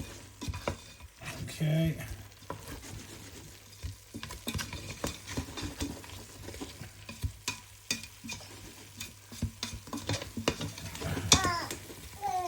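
Lamb and spinach curry with curry powders stirred in a pan, a spoon scraping and clacking in an uneven rhythm under a soft sizzle, with a brief word spoken once.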